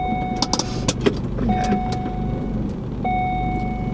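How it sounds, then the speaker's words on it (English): A car drives through a drive-through lane, its steady engine and road noise running throughout with a few sharp clicks and knocks, while a person speaks a single brief word. "We have a car going through."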